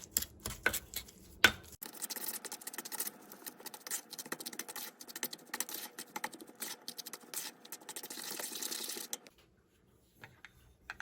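Garlic butter made with store-bought minced garlic is stirred in a bowl for air-fryer garlic bread, giving a steady run of close scraping, tapping utensil sounds for several seconds before fading out.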